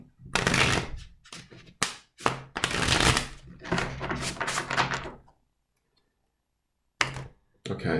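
Rapid riffle-and-bridge bursts of tarot card shuffling, crisp and close, in a few runs with a short silent pause before two final flicks.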